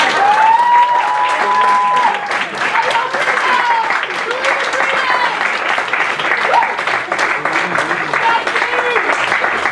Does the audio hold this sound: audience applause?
yes